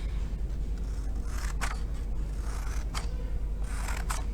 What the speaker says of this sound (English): I am going to cut just a couple of little tree trunks